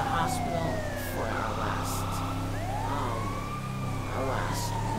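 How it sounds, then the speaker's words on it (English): An ambulance siren in the LSPDFR police mod wails in rising and falling sweeps over a low engine drone, with other siren tones mixed in during an escort run. "So we are currently escorting this ambulance."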